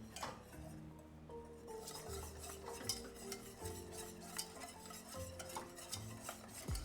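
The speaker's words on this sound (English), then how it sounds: "Whisk it up, my friends, and whisk it aggressively." Stock being whisked hard into chicken pot pie filling in a pot, a steady run of scraping and clinking strokes close by, with faint bubbling beneath and no talking.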